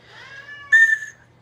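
Someone blows a water-filled warbling bird whistle that gives only plain, steady whistling tones instead of a warble: a softer note, then a louder, brighter one that lasts briefly and stops.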